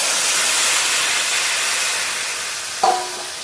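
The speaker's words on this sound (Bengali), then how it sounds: "মশলা আলু একটু নেড়ে নিয়েছি, এবার জল দিয়ে দেবো।" Water hits a hot pan of frying spiced potatoes and produces a loud, broad steaming hiss that slowly fades, then a brief sharp clink near the end.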